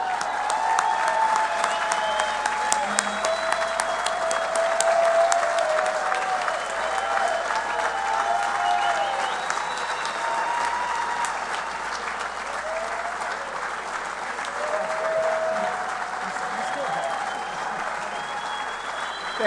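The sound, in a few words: audience applause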